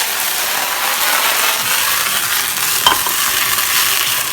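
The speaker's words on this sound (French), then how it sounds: "Et avec une spatule, on commence à déglacer." A spatula scrapes the bottom of a frying pan during deglazing with cognac, a steady sizzle and stirring scrape running throughout, with a sharp clink near the end.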